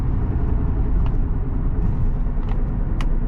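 A 2011 Honda Accord EX-L with nearly 200,000 miles cruising at highway speed, its steady road and engine rumble filling the cabin continuously, with no voices.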